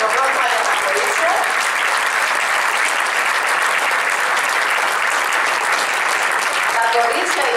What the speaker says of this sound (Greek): Μεγάλο χειροκρότημα για τα κορίτσια.